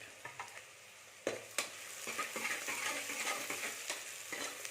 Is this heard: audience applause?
no